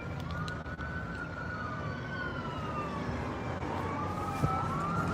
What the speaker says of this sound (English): I still hear sirens a long way away.